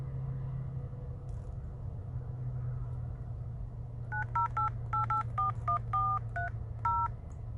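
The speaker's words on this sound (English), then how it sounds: "Sean, call my work phone because I'm recording on this phone." A phone number being dialed, about a dozen quick touch-tone beeps in an uneven run, clear and close over a low steady engine hum inside a truck.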